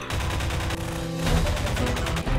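An automated turret in Half-Life 2 fires a rapid, steady stream of loud mechanical shots, close and continuous, with a brief dip before the barrage resumes at full intensity.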